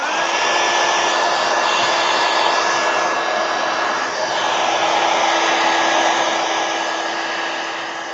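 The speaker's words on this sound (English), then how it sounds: "let me hit it with a heat gun. Try and dry that acrylic real quick." A heat gun blows steadily and loudly over acrylic paint, a continuous even roar with a faint high whine that holds for the whole stretch before easing slightly at the end.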